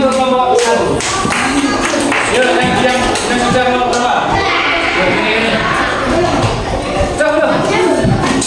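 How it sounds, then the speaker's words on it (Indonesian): A class of schoolchildren at SDIT Lentera Hati Ponorogo claps during a coding lesson, a dense, steady patter of many small hands lasting several seconds at close range, mixed with shuffling and scattered young voices in the room. "Wes, tepuk tangan."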